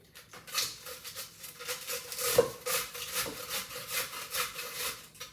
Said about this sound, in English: I'm gonna grate the whole cabbage.